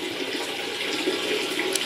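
Hot water from an instant water heater pouring into a bucket, a steady close rushing splash with no pauses.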